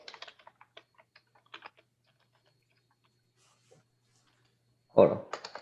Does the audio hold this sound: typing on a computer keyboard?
yes